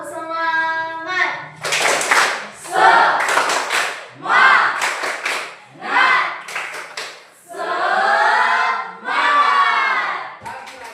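A group of children does a rhythmic cheer clap led by an instructor, with bursts of shouted chanting and clapping in short, energetic phrases, loud and close, separated by brief pauses.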